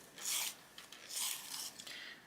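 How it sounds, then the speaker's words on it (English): Spring green colored pencil being sharpened by hand, two short scraping rasps of the blade shaving wood and pigment, close and quiet. "So I'm just going to sharpen that spring green."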